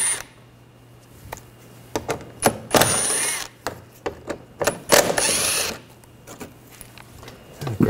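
Screws being removed with a 7mm socket from an inner fender well under a car, irregular ratcheting clicks and sharp metallic bursts, close and loud over a low hum.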